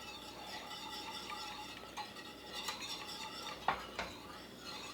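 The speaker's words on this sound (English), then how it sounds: "Make sure you stir pretty consistently because we don't want the bottom to burn." A spoon stirs a pot of custard flavored with orange zest for crème brûlée, giving a steady run of soft scraping and clinking against the pot, with a few sharper knocks near the end and no talking.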